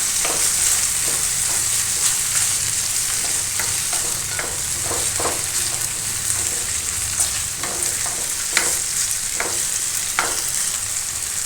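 Brinjal pieces frying in oil in a pan for a village-style chutney, a continuous loud sizzle with scattered stirring scrapes and clinks throughout, and no voices.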